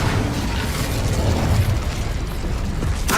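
Incendio fire spell cast in Hogwarts Legacy, a loud roaring whoosh of flame and crackling bursts that sustains for about three seconds before a sharp final burst at the end.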